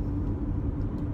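A car drives along a road on a weekday morning, giving a steady low engine and tire rumble heard from inside the cabin, with no talking.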